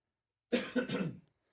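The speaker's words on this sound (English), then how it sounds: "I apologize for coughing." One person coughs a few times in quick succession, close and fairly loud, after a moment of silence.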